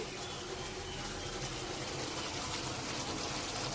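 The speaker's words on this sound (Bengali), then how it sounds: "তো অল্প করে এই যে জল দিয়ে দিলাম" Water pours into a pan of simmering pabda fish curry in a continuous broadband gush, steady and fairly loud, close by with no pauses.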